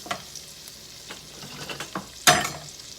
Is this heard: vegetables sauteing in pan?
yes